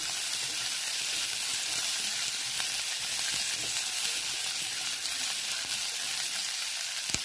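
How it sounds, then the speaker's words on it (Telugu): Finely chopped onion frying in hot tempering oil, a steady, bright sizzle that holds level throughout with faint stirring scrapes, close up and without any voices. "ఇప్పుడు అందులో నేను తరిగిన ఉల్లిపాయలు, ఒక ఉల్లిపాయ అండి, ఇది సన్నగా తరుక్కున్నాను. ఇది వేయాలి. వేసి వేయించుకోవాలి."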